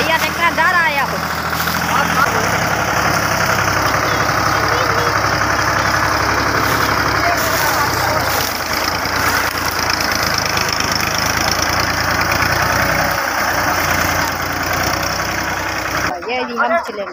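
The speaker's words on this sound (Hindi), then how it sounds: "ये देखो भैया ट्रैक्टर जा रहा है अब।" A heavy tractor engine rumbles steadily and loudly throughout, with muffled voices and clatter mixed in, cutting off abruptly near the end.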